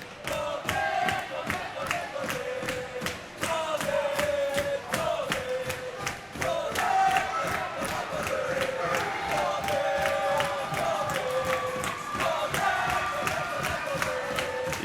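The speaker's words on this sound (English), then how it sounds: "Fury with a big Fury chant there" Spectators at a men's semi-final of the 2019 Canadian National Dodgeball Championships chant in a rhythmic group cry with sharp regular claps or stomps, a steady loud crowd roar filling the whole stretch.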